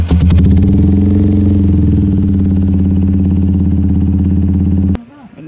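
A motorcycle engine cranks during a starter relay test, a loud rhythmic churning turnover that runs steadily for about five seconds and then cuts off abruptly.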